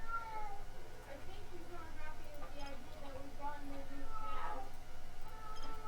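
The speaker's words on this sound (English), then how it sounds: "My cat is screaming at me." A cat meows and cries repeatedly, faint and somewhat distant, under steady background noise with a person talking over it.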